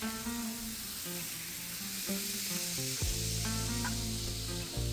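A Tomix EF66 N scale model train running, its wheels giving a steady faint rolling hiss over a low motor hum that shifts in pitch, with no talking.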